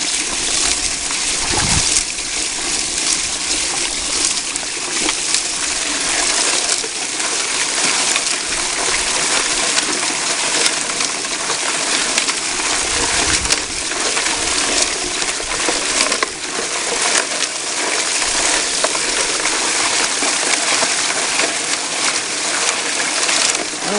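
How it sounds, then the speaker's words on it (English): A bucket trommel washes rocks with water, a loud, continuous churning roar of tumbling stone and gushing water that runs unbroken throughout, with no voices. "We're running, we're washing rocks."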